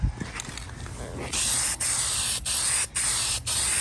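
Spray paint being applied to a restored 1950s Sears Dunlap drill press, heard as four close, loud hissing bursts of about half a second each separated by brief pauses, after a short stretch of quieter handling noise.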